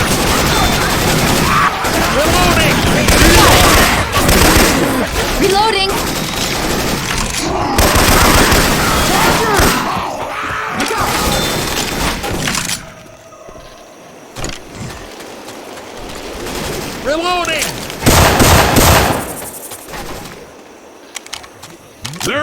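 Gunfire from Syphon Filter weapons rattles through a Left 4 Dead 2 game, with loud rapid bursts and fusillades over a rumbling engine-like bed, dropping to scattered shots and quieter stretches before another heavy burst.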